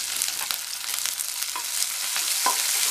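Sliced onion, green chilli and curry leaves sauté in a pan for tomato rice, giving a steady close sizzle with occasional stirring scrapes.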